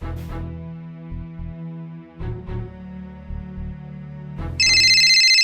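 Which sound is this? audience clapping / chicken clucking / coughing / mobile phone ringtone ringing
mobile phone ringtone ringing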